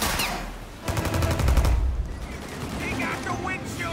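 Rapid bursts of gunfire from the video game Mafia Definitive Edition, a dense, loud volley of repeated shots rattling under game noise, with rapid machine-gun-like pulses through the middle.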